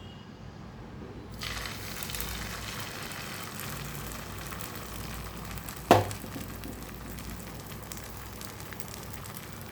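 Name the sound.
egg omelette mixture frying in oil on a tawa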